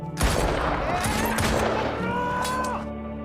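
Pistol fire in a war film scene with American soldiers and Taliban fighters, a dense, loud burst of shots over a busy layered soundtrack, with brief voices mixed in.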